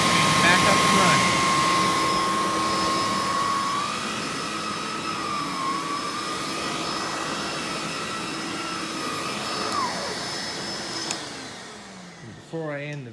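Electrolux Epic 3500 SR upright vacuum running with a steady loud motor whine that shifts pitch slightly, then winds down near the end with a brief clunk.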